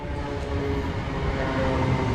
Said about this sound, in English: This is our train that's going to take us to Marks Tay next.